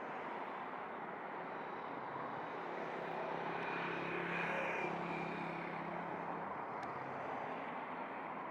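A fixed-wing airliner powers up for takeoff on runway 25 in Jamaica, a broad steady jet roar that swells slightly mid-clip and holds loud and continuous, with no talk.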